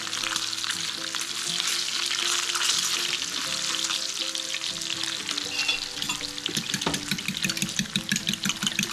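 Bacon frying in a pan gives off a loud, steady crackling sizzle with dense popping throughout. There is no talking over it.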